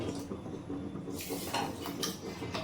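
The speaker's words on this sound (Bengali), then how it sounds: "দুই তিনবার জল দিয়ে ধুয়ে নিচ্ছি" Red lentils (masoor dal) are rinsed with water in a metal pot, giving a close, wet sloshing and scraping with a few soft clinks, louder toward the end, with no talk.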